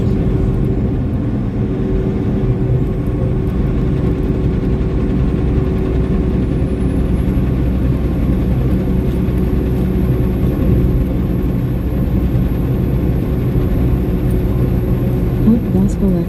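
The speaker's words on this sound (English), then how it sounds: "with the main engine of the truck right now that we're running under" Steady low diesel drone of a semi truck's main engine running while driving between Findlay, Ohio and St Cloud, Minnesota, heard from inside the cab as a continuous loud rumble with an even tone throughout.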